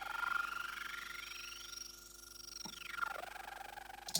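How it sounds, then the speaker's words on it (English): Synth intro layers with sweeping, gliding tones rising and falling over a steady sustained pitch, with a brief bright burst near the end, heard alone with no talk. "We have got some additional synths. So some stuff on the intro."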